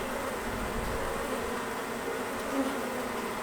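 Honey bees drone in a steady, continuous buzz around a queen cage fitted with a cork and candy plug, a dense swarm close by with no talk over it.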